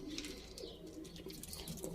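Soft, low cooing of pigeons continues throughout, faint and somewhat distant, with a few light chirps mixed in.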